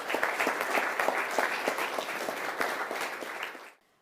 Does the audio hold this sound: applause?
yes